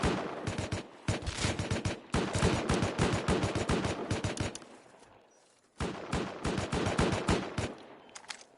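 Gunfire in the game Rust, long loud bursts of rapid automatic shots, dense and close, broken by a brief pause before another sustained burst, with no voices.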